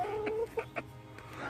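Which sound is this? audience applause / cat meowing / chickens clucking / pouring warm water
chickens clucking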